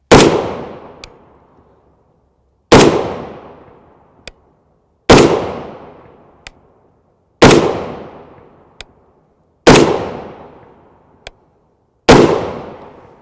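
Six loud .308 Winchester rifle shots firing 150-grain FMJ Wolf ammunition, each a sharp close crack with a short decaying tail, spaced roughly two and a half seconds apart, with a faint small click between shots.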